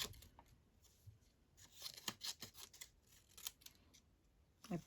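Scissors snipping through paper to cut out a small paper butterfly for a fabric-and-paper journal card, a run of quiet, close, crisp snips and rustles in irregular clusters, with no talking.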